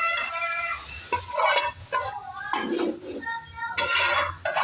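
Garlic in hot oil sizzling and crackling steadily up close, with occasional stirring and clinks of a utensil against the pan.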